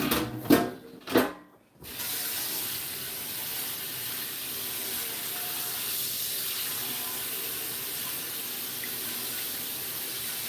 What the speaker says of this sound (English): First thing you want to do is use scalding hot water on a pizza pan.